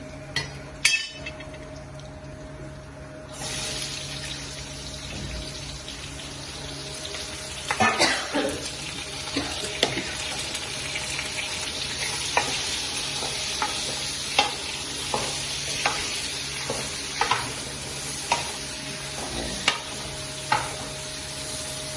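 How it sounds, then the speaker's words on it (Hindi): Bottle gourd (lauki) frying in a pan with spatula stirring: a steady sizzle broken by repeated sharp scrapes and clinks against the pan, close by, with no one speaking. "अभी हम जो हमारी लौकी है इसको हम फ्राई करेंगे।"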